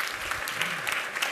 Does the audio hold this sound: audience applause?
yes